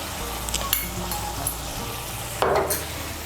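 Spice paste made from ground spices hits hot oil in a pan for a Bengali recipe, giving a steady close sizzle with a brief louder burst of frying and faint utensil clinks.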